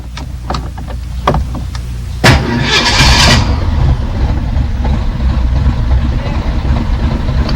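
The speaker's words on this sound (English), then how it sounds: "And we've started our Ford." A Ford car being started without keys: a few clicks, then the starter cranks briefly and the engine catches, settling into a steady close idle.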